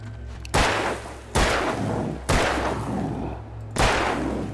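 Four loud gunshots in the Alan Wake video game, each a sharp blast followed by a decaying boom, spaced about a second apart over a low ambient drone.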